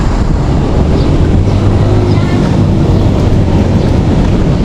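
A swollen river rushes loudly through the Montalban mountains, a dense, unbroken roar of churning water close by, with no voices over it.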